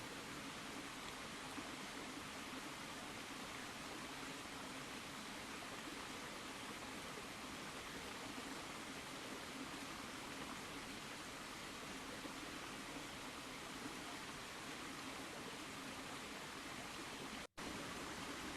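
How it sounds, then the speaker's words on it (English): A small river flows nearby at night, heard as a soft, unbroken rushing wash that stays even throughout, fairly quiet and without voices. "You can hear the little river flowing nearby."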